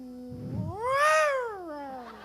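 A human voice imitates a cat meowing on a roof during a singing lesson: one drawn-out, rising-then-falling meow with a nasal, wailing tone, preceded by a short breathy onset, loud and alone.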